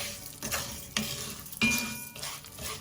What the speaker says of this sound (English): we'll add in the rice, the yellow peas, stir well to coat